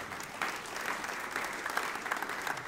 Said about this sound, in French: Et que tous ceux qui le croient disent Amen et applaudissent bien fort.